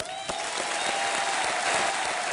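Studio audience applause on the Hindi TV quiz show Kaun Banega Crorepati, a dense, steady wash of many hands clapping at even loudness throughout, with no talk over it.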